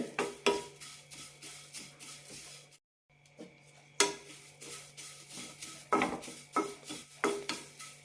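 Drumstick leaves roasting dry and crisp in a pan are stirred with a spatula, giving a steady run of rustling, scraping strokes against the metal with a short pause midway, close and moderately loud.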